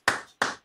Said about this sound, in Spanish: un aplauso para mamá